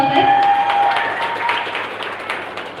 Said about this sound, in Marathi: एकदा सरांसाठी जरा जोरदार टाळ्या उंचावताय